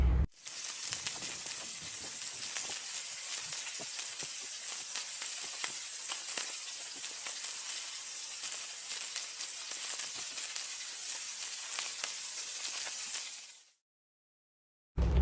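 Chicken and cauliflower gravy with yogurt sautés in a pan, giving a steady, close sizzle and hiss that holds evenly for about fourteen seconds and then cuts off abruptly.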